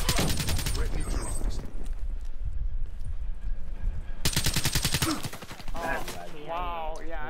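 Rapid automatic gunfire in the Black Ops 3 video game, two loud sustained bursts close by separated by a quieter stretch, with game sounds and a voice near the end.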